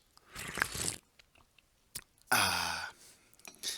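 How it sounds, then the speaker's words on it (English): Coffee is slurped loudly in one close sip, followed after a pause by a drawn-out, contented voiced exhale and a few small clicks. "don't be surprised if you hear me take a sip of coffee"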